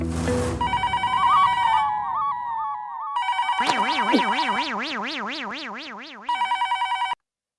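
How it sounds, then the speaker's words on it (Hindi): A telephone rings loudly in warbling electronic bursts, with a sliding tone, a trilling ring, and a final short ring before it cuts off. "मैं चंपक चाचा को फोन लगाता हूँ ना"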